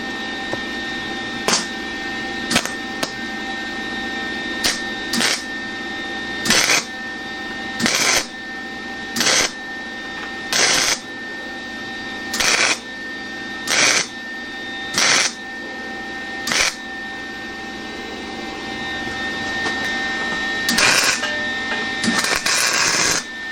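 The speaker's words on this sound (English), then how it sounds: "I've got the welder cranked up because I'm welding onto some thicker, heavier stuff." Arc welding on a minibike frame, welder turned up high for thicker, heavier metal during a gas tank and seat mount: a steady crackling buzz broken into roughly a dozen short bursts with brief pauses between, close and fairly loud.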